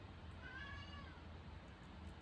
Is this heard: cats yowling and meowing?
yes